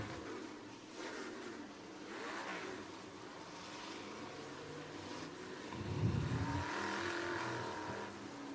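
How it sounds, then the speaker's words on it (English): Topless outlaw race cars roll slowly around the Penton Raceway track before the start. Engines drone faintly and steadily in the distance, with a slight swell toward the end and no voices. "Cars are rolling."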